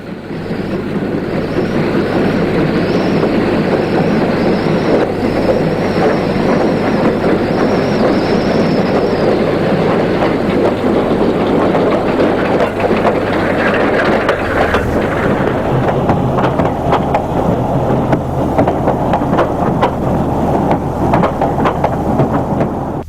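A class 1542 steam locomotive arrives in East Germany, a loud continuous rumble and clatter with wind buffeting the microphone, the tone shifting midway as the engine draws nearer, no voices.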